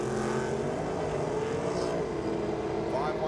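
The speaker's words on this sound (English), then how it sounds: "Paul Galea coming out now in the 1978 Porsche 928 with the big block Chev in it" A 1978 Porsche 928 drag car fitted with a big-block Chevrolet engine at a drag racing shootout, its loud steady engine roar continuous and close, with crowd or commentary noise underneath.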